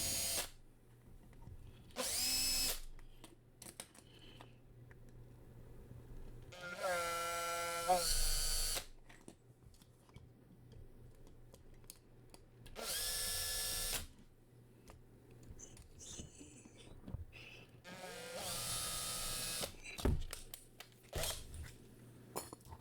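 An electric drill spins in several short bursts while taking apart plastic-bodied Hot Wheels toy cars, whining fairly loudly between quiet pauses with faint handling noises.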